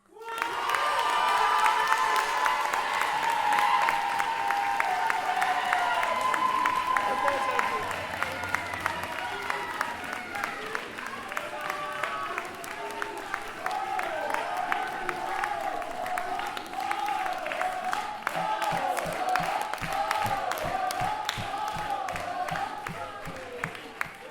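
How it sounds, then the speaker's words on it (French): Crowd at a live performance applauds and cheers for a performer, loud sustained clapping with shouts and whoops, fading into rhythmic clapping while voices talk over it. "Et pour ça, on applaudit Annie."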